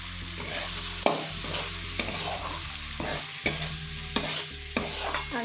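A spatula stirs flattened rice (poha) into fried vegetables in a hot pan, with sizzling under a run of sharp scraping knocks against the pan at an uneven rhythm, close and fairly loud.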